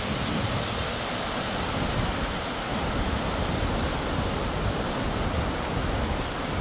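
A small waterfall near Montmorency Falls in Beauport, Quebec, on a cold December day, rushing in a steady, broadband roar that stays constant and close with no other sounds.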